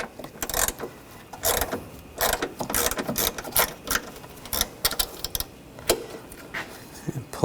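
Ratchet wrench with a 13mm socket loosening a front strut bolt on a 2014-2020 Nissan Rogue, heard as repeated bursts of close, sharp clicking in short quick strokes separated by brief pauses.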